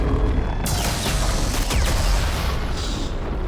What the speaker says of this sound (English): Mind if I use my barrage of photon torpedoes?